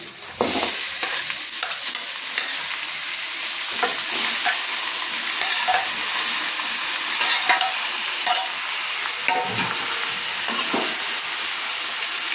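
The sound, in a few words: onions frying in a pan until reddish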